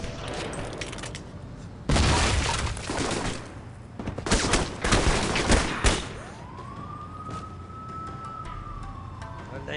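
Grenade blast and bursts of automatic gunfire in the video game Alpha Protocol, set in Taiwan, with a loud explosion followed by rapid volleys of shots and a rising siren-like tone afterward.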